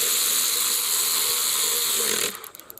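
A ratchet clicks rapidly and continuously while tightening down an aftermarket replacement electric cooling fan clutch. It sounds close and loud, then stops abruptly into a few separate clicks.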